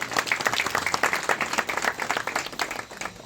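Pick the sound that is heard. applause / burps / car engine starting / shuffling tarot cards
applause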